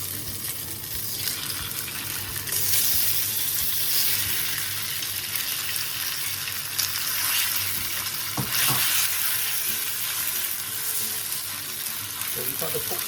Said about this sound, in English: we try to seal the pork